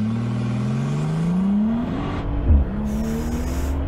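Brabus G800 engine pulling hard under acceleration, a loud rising roar that climbs steadily, then dips and settles as the throttle lifts and boost is released through the wastegate, with no voices.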